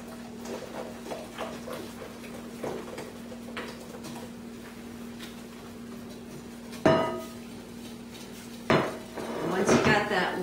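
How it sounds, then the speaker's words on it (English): A whisk stirs caramel cream mixture into beaten eggs in a bowl, giving light, sparse metallic clinks over a steady low hum, with a few sharper, louder clanks near the end. "you want to gradually whisk it into your egg mixture"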